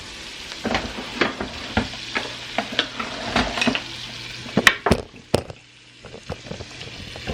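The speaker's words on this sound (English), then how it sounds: "I added some minced garlic" Minced garlic sizzles in a frying pan on a farm kitchen stove, a steady close hiss broken by frequent scrapes and clinks of a utensil stirring against the pan, with a brief quieter gap near the end.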